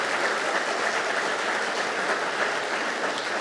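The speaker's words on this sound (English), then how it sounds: "Let's give him a huge round of applause." An audience at an annual leaders' celebration and awards event applauds in a dense, steady wash of clapping that holds at an even, fairly loud level throughout, with no speech over it.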